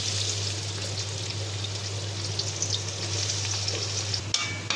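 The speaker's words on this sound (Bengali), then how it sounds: "এই যে আমার তেল গরম হয়ে গেছে, এখন আমি পেঁয়াজগুলো দিয়ে দেব।" Onions frying in hot oil, a dense, even sizzle heard up close with faint stirring and a steady low hum beneath it, ending in a sharper clatter.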